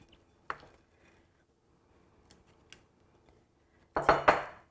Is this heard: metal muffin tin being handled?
yes